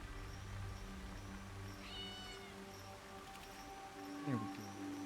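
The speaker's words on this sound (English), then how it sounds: "pet the kitten" Soft meows from a kitten in Assassin's Creed Shadows, two or three faint calls under rustling ambient game sound.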